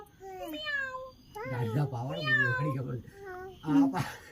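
A singing voice imitates a kitten's meowing in several drawn-out, melodic meows.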